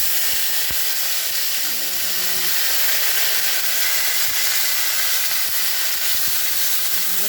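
Ginger paste and five-spice masala sizzle steadily in a hot pan, a continuous close hiss and crackle of frying spices with no talk.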